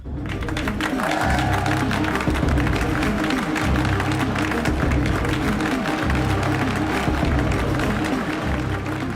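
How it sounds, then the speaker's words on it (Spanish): A large crowd applauding and cheering in a hall at a Nazi-era political gathering, dense continuous clapping with rising shouts, loud and sustained throughout. "el público grita, aplaude y vitorea"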